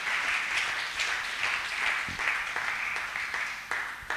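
A church congregation claps loudly in praise of God, with dense, steady applause that keeps going and has faint rhythmic accents.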